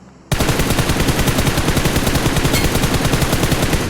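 Automatic gunfire in PUBG Mobile, likely an AUG rifle: a loud, sustained burst of rapid shots in a dense, unbroken rhythm after a brief quiet start, with no talking over it.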